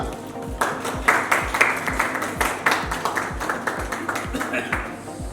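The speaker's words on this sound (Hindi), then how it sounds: "तालियां।" Applause at an award show honouring a guest, with steady claps and sharp taps over a rhythmic low thumping beat, moderately loud and continuous, with voices mixed in.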